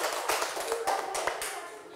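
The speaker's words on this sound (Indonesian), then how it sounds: "tepuk tangan untuk kelompok 1" A small group of people clapping briefly for a classroom team, with sparse, uneven hand claps sounding close, moderate in volume and tapering off over about two seconds.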